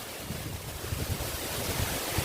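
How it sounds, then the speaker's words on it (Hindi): Water falls continuously at Bankhaman waterfall, a steady broad rushing roar with faint low surges, heard alone without voices. "ये है दोस्तों बांखामान का वाटरफॉल।"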